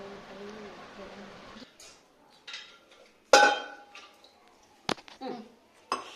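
Dishes, pots and pans are handled at home, with sharp clinks and clatters scattered irregularly, a few louder metallic knocks among quieter scrapes, and talking in the background.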